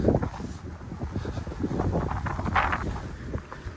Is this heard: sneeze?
no